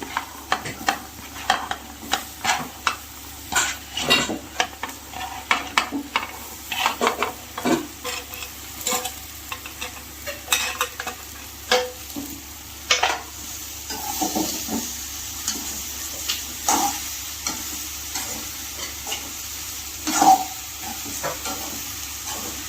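Ridge gourd stir-fry with sambar powder sizzles in a pan, with a steady, soft frying hiss under repeated scraping and stirring strokes of a spatula, close and continuous with no talking.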